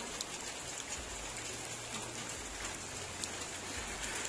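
Steady rain falling outdoors, a constant dense hiss of drops on surfaces with a low hum underneath and a few faint sharper patters, no talking.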